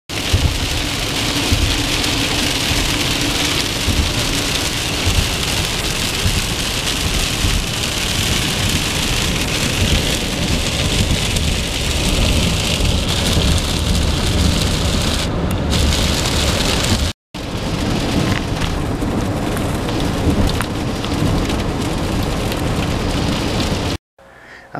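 Heavy rain pours down on a teardrop trailer in the Catskills, Andes, New York, in a dense, continuous roar, steady and close, with a brief cut partway through.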